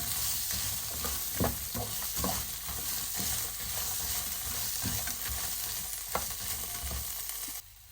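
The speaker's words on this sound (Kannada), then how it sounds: "ನೀರುಳ್ಳಿ ಮತ್ತು ಬೆಳ್ಳುಳ್ಳಿ ಇದೆ, ಅದನ್ನು ಸಹ ಮಿಕ್ಸ್ ಮಾಡಿ ಎಲ್ಲವನ್ನು ಫ್ರೈ ಮಾಡುವ." Onion and garlic frying together in a pan for a Mangalorean chicken curry, a steady close sizzle broken by repeated scraping stirs of a spatula, ending abruptly.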